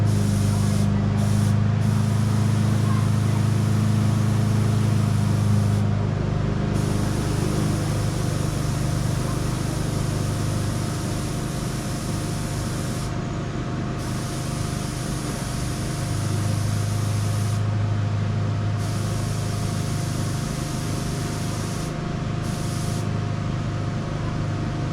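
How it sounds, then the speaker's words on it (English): A neighbor's lawn mower cutting grass drones steadily and loudly for the whole stretch with a constant low engine hum and broadband whir, briefly dipping in places, with no clear talking. "Sorry, it's loud. My neighbor's cutting his grass."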